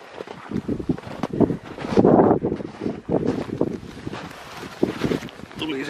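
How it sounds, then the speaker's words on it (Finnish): Strong northerly wind of about 15 metres per second gusts across a frozen lake under full sun, buffeting the microphone in loud irregular bursts. "mutta tuulee 15 metriä."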